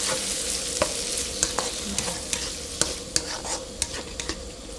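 Spicy pork belly stir-frying in a hot pan, a steady loud sizzle with scattered sharp clinks and scrapes of a spatula against the pan, no voices.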